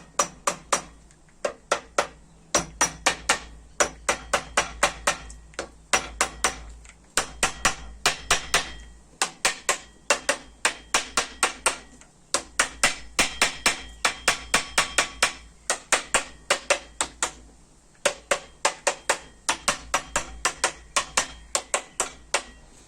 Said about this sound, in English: get your hammer and lightly tap.